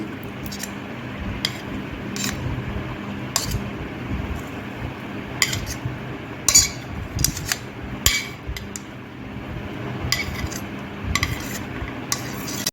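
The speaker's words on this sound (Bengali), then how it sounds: "ভালো করে মিশিয়ে নিচ্ছি" A spoon mixes fruit into a soaked flattened-rice dessert in a bowl, giving soft wet stirring punctuated by repeated sharp metallic clinks against the dish at irregular intervals.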